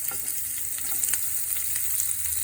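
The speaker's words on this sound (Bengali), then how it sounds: "পেঁয়াজটা আমি লাল লাল করে ভেজে নিয়েছি" Chopped onions fry in hot oil with whole garam masala for a katla fish curry, giving a close, steady crackling sizzle heard alone.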